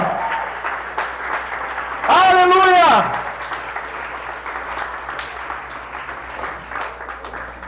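A church congregation claps steadily through a worship service while a voice shouts out a drawn-out praise over the applause.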